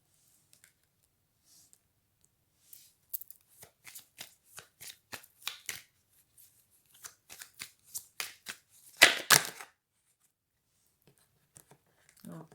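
Oracle cards shuffle in quick, crisp bursts, a rhythmic series of riffling flicks close by that builds to a louder flurry near the end, with quiet gaps between.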